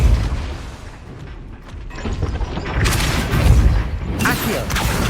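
Depulso spell cast in Hogwarts Legacy during a dragon rescue: a loud, booming blast with crashing impacts swells from about the midpoint and peaks near the end, over continuous game background noise.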